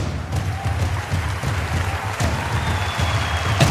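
On the televised dance show India's Best Dancer 3, a studio audience gives steady, moderately loud applause to welcome dancer Sudha Chandran, the clapping continuing evenly throughout.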